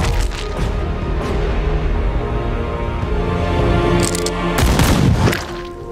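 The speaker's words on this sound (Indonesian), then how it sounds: "seseorang dari balik kegelapan terpaksa menembak anak tersebut hingga tewas" Film gunfire sounds as a loud burst of shots and booms over a dense, rumbling soundtrack, with a sharper cluster of blasts near the end.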